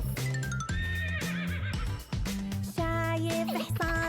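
A horse whinnies several times in quick succession, loud and close, each neigh a bright, wavering call with short breaks between them.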